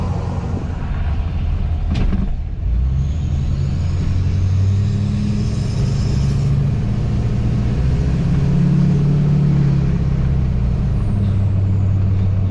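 Loud, steady diesel truck rumble through a 5-inch straight pipe exhaust with a rising turbo whine, a sharp hiss of air release early on, engine droning throughout.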